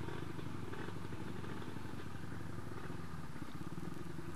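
A Suzuki Satria motorcycle engine drones steadily while riding on a highway, a continuous buzzing hum with rushing wind noise, loud and unbroken throughout.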